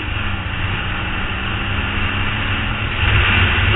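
A Yamaha WR125X motorcycle cruises at around 40 on a windy day, its engine drone steady and loud under continuous wind roar, swelling slightly near the end.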